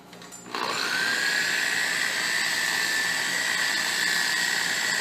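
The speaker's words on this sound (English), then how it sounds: "a rubbing compound and then a polishing compound, which is what I'm doing right now" A machine polisher with polishing compound runs steadily on a motorcycle gas tank, a loud continuous high-pitched whine after it starts up, holding even for several seconds with no talking.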